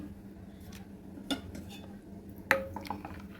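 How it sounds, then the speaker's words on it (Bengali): A spoon clinks against a glass or bowl while watermelon sherbet with a pinch of salt is stirred, giving a few sharp metallic taps over a low, steady background. "ভালো করে নেড়ে নেড়ে নেড়ে নেড়ে মিশিয়ে নেব"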